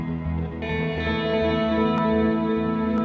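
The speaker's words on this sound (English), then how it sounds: "So here, let me turn this on. This is the reverb." Sustained electric guitar chords through a VFE Klein Bottle stereo reverb pedal, washed in lush reverb and echo, tones ringing and blending into a long shimmering tail, steady and moderately loud.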